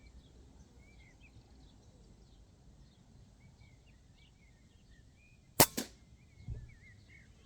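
A single sharp crack from an RTI Arms Prophet One air rifle firing a JSP slug, followed by a faint impact, set against quiet outdoor ambience with birds chirping.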